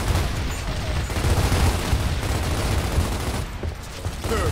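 Sustained gunfire from the video game Gears of War, a dense continuous rattle of automatic weapons and rumbling booms that fills the whole stretch, loud and unbroken with only a brief dip near the end.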